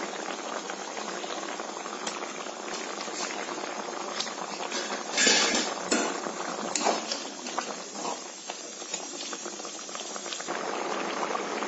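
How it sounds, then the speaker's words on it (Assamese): A pumpkin and fish curry boils in a pot, a continuous close bubbling and gurgling with busier bursts midway, steady throughout with no voices. "এইদৰে মাছখিনি দিয়াৰ পিছতো কিছু সময় ধুনীয়াকৈ উতলিব"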